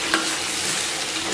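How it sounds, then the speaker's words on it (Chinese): Soaked chili peppers and Sichuan peppercorns hiss and sizzle in a hot wok during a brief, loud burst of stir-frying, with the scrape of stirring. "咱们把泡好的辣椒和花椒给它下到锅中，继续给它简单煸炒一下"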